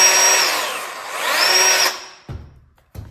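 A corded electric drill runs with its trigger pressed lightly, its loud whine dipping and rising in speed before it winds down, followed by a couple of clicks and handling knocks.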